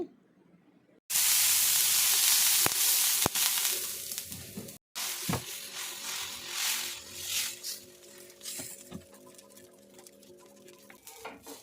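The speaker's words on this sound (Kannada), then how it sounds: "ಇವಾಗ ಇನ್ನೊಂದು ದೋಸೆನೂ ಹಂಗೆ ಹಾಕ್ಕೊತೀನಿ." A dosa hits a hot pan with a sudden loud sizzle that settles into a steady frying hiss, with a few sharp clicks and taps nearby.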